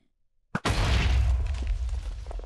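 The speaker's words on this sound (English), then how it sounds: "explosion sound, and they get launched up and they die at one point" A Minecraft Slimefun explosive bow arrow strikes a target and detonates, one sudden loud blast followed by a long, dense roaring rumble that holds steady for nearly two seconds, with no talk.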